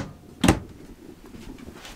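In the kitchen of a 2017 Keystone Passport 199ML RV, a single sharp knock of a cabinet door or drawer closing stands out close by against a faint room hum.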